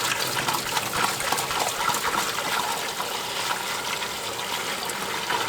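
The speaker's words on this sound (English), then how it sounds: "we'll go take this to the sink and give it a clean out" Water gushes from a tap into a sink, rinsing out an aquarium protein skimmer's waste drum, making a loud, steady, close splashing rush with no talking.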